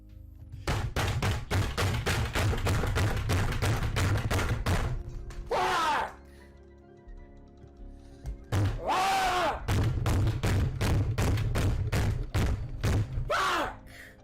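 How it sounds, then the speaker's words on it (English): A fist bangs on a computer desk during a Cuphead gaming session, landing in rapid, heavy, repeated thuds with short bursts of loud yelling in between. "the most famous Twitch clip of him banging his fist on the computer desk like a chimpanzee on crack due to dying at Cuphead"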